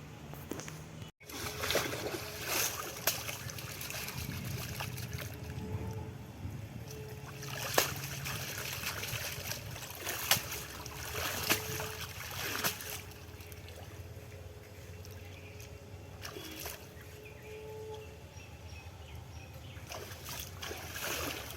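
Sonabogo river fish being washed in water: sloshing, splashes and trickles at close range, with irregular louder splashes spread across a long, steady wash.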